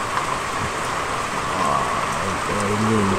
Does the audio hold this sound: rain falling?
yes